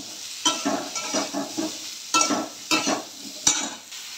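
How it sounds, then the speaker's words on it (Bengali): Curry with salt and turmeric stirred in a pan for an ilish fish, papaya and potato dish: a spoon scrapes in repeated strokes over a soft sizzle, with a sharp clink near the end. "নুন হলুদ দেওয়ার পরে আবার একটু নেড়ে চেড়ে নিলাম।"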